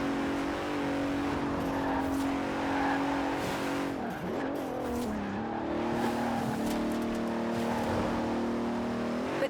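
A Bentley Continental race car in Forza Horizon 4 holds a loud, steady engine drone with shifting revs and tyre scrub throughout, dipping and surging briefly mid-way, with no talk over it.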